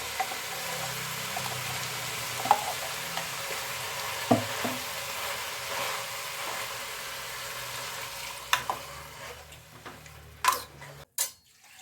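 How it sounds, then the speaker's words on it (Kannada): Ground masala paste for sambar sizzling in a pan, a soft steady frying hiss with occasional spoon taps and clinks against the pan, growing more clattery near the end, close and fairly quiet without voices. "ಈಗ ಮಸಾಲೆ ಹಾಕ್ತಾಯಿದ್ದೀನಿ"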